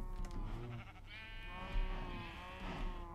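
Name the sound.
sheep bleating in the video game Minecraft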